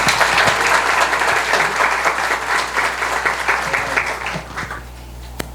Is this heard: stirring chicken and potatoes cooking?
no